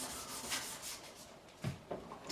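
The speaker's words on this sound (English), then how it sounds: "just finishing off, just sanding it all nice and smooth" Sandpaper rubbing over a classical guitar part during repair work, a steady close-up rasping scrape with a few louder strokes near the end.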